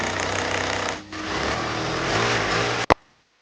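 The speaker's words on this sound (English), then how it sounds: "And then drilling it." Power drill boring a hole into a wall while a lighted vanity mirror is fitted, a continuous loud whirring grind with a short dip in the middle, ending in a sharp knock and silence.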